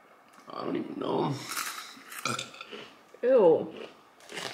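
A person lets out a loud, short burp after sipping Coke or Pepsi sodas in a blind taste test. It comes near the end, after other people have been talking, with faint clinks of cans and glasses nearby.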